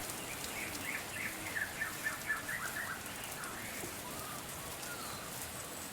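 Steady rain hisses in the video game Grandfather Island, a soft, continuous patter with faint bird chirps rising briefly over the wash.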